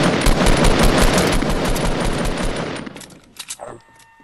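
Rapid automatic gunfire in Fortnite Battle Royale, loud and close, a dense burst of shots lasting several seconds before trailing into a few scattered softer pops.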